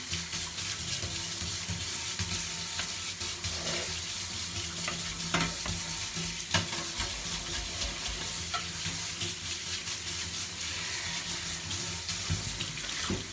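Running water and scrubbing with a scrub brush while washing dishes at a sink, a steady close wash of water with scattered clinks and brushing strokes throughout, no talking.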